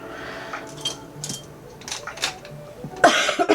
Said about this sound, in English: Still have that COVID cough, man.